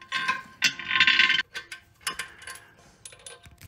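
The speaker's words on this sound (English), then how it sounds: "start to tighten up the bolts" Toilet tank bolts being tightened during a fill valve replacement, close metallic ratcheting and clicking in short bursts with pauses, no talking.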